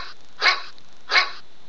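Two loud, sharp barks from a dog, evenly spaced and close, standing alone against a quiet background.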